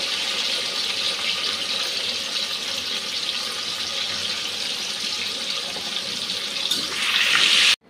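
Potatoes fry in a pan with salt and cinnamon, a steady close sizzling hiss that holds evenly throughout and swells briefly near the end before cutting off, with no voices.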